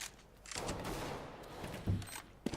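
Gunfire in Counter-Strike: Global Offensive on Dust 2, an MP9 retake through tunnel, with a dense burst of shots through the first half and sharp single reports near the end, moderately loud.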